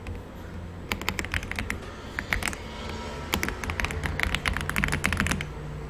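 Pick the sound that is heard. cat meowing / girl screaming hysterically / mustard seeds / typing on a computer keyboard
typing on a computer keyboard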